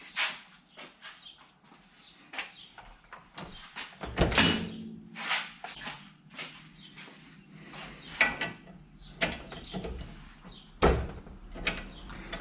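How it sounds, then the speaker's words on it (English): A half-inch hand ratchet works a Powerbuilt strut coil spring compressor, giving a series of close, sharp clicks and clanks in irregular bursts separated by short pauses. "I'm going to finish cranking it out the rest of the way."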